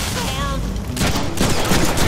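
Rapid bursts of gunfire aimed at zombies in a Deadpool video game, loud, broadband crackling volleys that begin about halfway through and repeat in quick succession.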